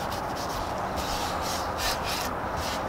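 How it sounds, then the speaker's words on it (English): A hand rubs wood stain into a corbel, producing a continuous close, coarse rubbing and swishing texture with gentle surges in strokes and no talking. "Just going back in with my other hand and rubbing it in and blending it."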